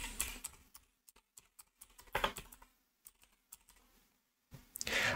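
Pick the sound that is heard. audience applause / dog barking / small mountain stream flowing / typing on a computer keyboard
typing on a computer keyboard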